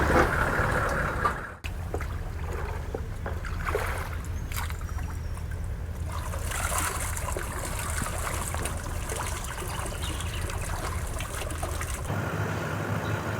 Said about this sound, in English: The first order of the day is to fill up the troopy with water.